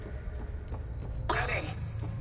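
Garbled radio transmission from the game Hell Is Us, cutting in and out with static bursts and fragmented voice, breaking up for under three seconds.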